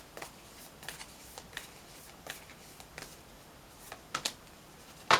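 Magical spell cards being shuffled by hand, giving a string of soft, brief papery riffles spaced irregularly, with a sharper, louder flurry near the end, all close and quiet with no talking.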